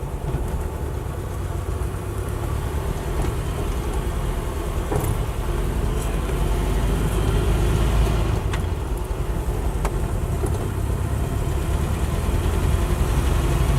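A Land Rover Series III with a V8 engine and LT95 gearbox taken from a Range Rover, idling as a continuous deep rumbling drone, loud and close, steady throughout with no talk.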